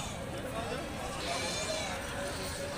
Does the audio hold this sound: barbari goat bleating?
yes